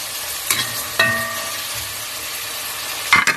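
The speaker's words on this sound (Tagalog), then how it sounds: "Lutuin lang natin ng konti yung kamatis guys para lumabas yung kanyang katas" Tomatoes fry in a pan with a steady low sizzle, broken by a few short scrapes of stirring near the start and a louder clatter near the end.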